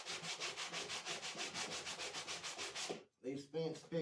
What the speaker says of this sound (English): You're also going to want to sand your piece down till it's smooth